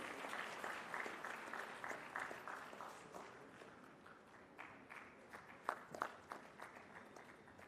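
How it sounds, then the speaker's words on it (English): An audience claps at the inaugural session of a commerce conference, a quiet, distant patter of applause that thins out into scattered claps. "A big round of applause for him, please."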